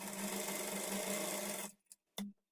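A sewing machine runs steadily, stitching along the edge of a blouse, a continuous whirring hum for about a second and a half before stopping, followed by two short bursts of stitching.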